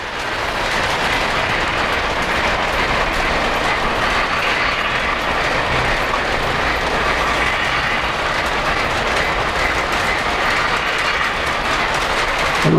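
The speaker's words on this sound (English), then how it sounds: "we've got all three moving trains in the picture" Polar Express model railroad trains, three running at once, produce a continuous loud rolling rumble with a fast clickety-clack of small wheels on track, steady throughout and with no talk.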